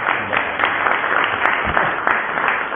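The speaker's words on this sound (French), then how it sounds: "applaudissez le pape tant que vous pouvez" Applause from a lecture audience at a talk in Pau, steady dense clapping from many hands filling the room for a few seconds with no voices over it.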